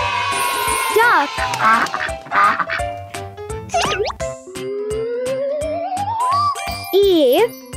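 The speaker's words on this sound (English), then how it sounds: "Duck." A cartoon-style duck quacks in a children's animal-names learning song. Quick, nasal calls mix with bouncy music, boing effects and jingles, and voices are heard alongside.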